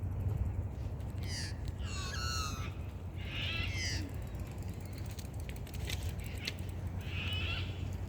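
Birds call in short, scattered bursts at Sydney's Botanic Garden, a few clear, separate cries spaced over steady outdoor background noise, moderately near, with no talking.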